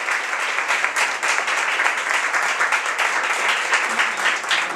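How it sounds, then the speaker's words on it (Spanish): Audience applause at an oral philosophy defence during a national philosophy olympiad in Argentina, a dense, even patter of many hands clapping from start to finish with no talk. "Un aplauso para la compañera igualmente diferente."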